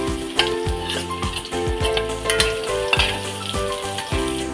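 Garlic and onion sauté in a hot pan for chicken adobo, with a steady sizzle broken by repeated clanks and scrapes of a utensil stirring against the metal, close and fairly loud, with no talking.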